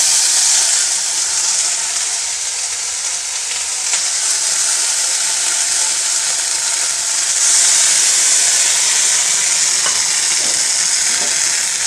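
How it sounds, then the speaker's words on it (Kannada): Water is poured into a hot pan of roasted sago for payasam and sends up a loud, continuous hissing sizzle of steam that holds steady close-up for the whole stretch, with no voices. "ಎರಡೂವರೆ ಬಟ್ಲಷ್ಟು ನಾನು ನೀರನ್ನು ಹಾಕ್ಕೊಳ್ತೀನಿ"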